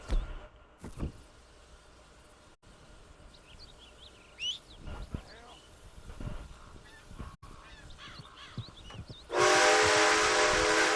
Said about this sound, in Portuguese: Ó, da hora, conduzir o trem, vamos ver.